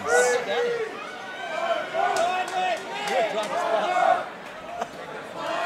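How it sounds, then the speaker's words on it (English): Crowd noise swells at a female MMA bout between Kaela Banney and Kim Piper, a steady murmur and scattered shouts running under continuous commentary throughout. "Crowd's starting to get involved now."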